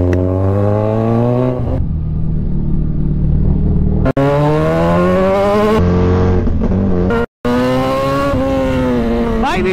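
A Kawasaki Z1000 motorcycle revs hard during a wheelie, its engine note rising and falling in loud, close sweeps with brief cuts between pulls.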